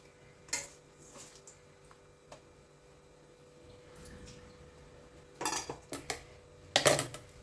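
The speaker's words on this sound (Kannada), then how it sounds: "ಇಲ್ಲಿ ನಾನೀಗ ಇಷ್ಟು ಮೆಂತ್ಯ ಸೊಪ್ಪನ್ನು ಕಟ್ ಮಾಡ್ತಾ ಇದ್ದೀನಿ" A knife chops fenugreek leaves on a board while making a paratha, giving sparse, quiet taps with longer gaps, then a quick cluster of louder chops near the end.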